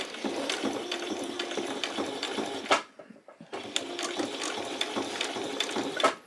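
A sewing machine stitches an apron in steady, fast mechanical bursts of needle clatter. It stops briefly partway through and then runs again at moderate volume with no talking.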